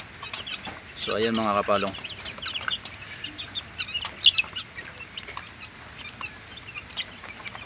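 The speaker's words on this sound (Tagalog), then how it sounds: "Yan na rin yung sisiw niya." A hen called Poging Maganda and her two-week-old chicks cluck in short, soft, scattered calls around a farmyard, with someone speaking briefly over them.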